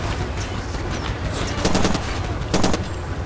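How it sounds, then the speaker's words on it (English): Rapid automatic gunfire in the Far Cry 2 video game, with bursts of shots over steady background noise and engine rumble during a barge defence, some bursts louder and closer than others. "I'm being shot at from the back"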